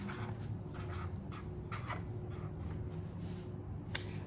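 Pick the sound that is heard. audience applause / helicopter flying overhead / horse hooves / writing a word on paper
writing a word on paper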